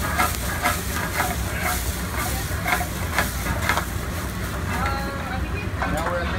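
White wine hits a hot pan to deglaze crispy stuck-on bits in a roadside diner kitchen, giving a loud, steady hiss and sizzle with a voice talking over it.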